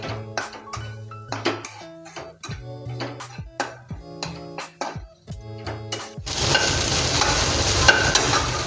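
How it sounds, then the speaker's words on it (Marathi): Vegetables with cabbage being stir-fried for restaurant-style soya chilli, with a run of loud, rhythmic spatula scrapes and clanks against the pan, then a dense, steady sizzle as ingredients hit hot oil. "थोडी कोबी, आणि छान परतवून घेऊया।"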